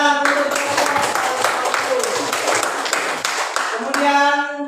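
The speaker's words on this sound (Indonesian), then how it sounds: "Sudah, ya, tepuk tangan untuk" A classroom of students clapping their hands together, a fairly close burst of rhythmic claps lasting a few seconds, with voices and a ringing tone mixed in.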